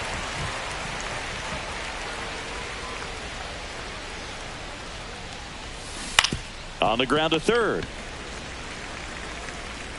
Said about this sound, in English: We are officially in a rain delay as they'll put the tarp on the infield and hope this one passes quickly.